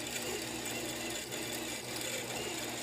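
Longarm quilting machine stitching raw-edge appliqué in a loose zigzag, a steady fast mechanical whir and needle chatter running continuously at close range with no talk.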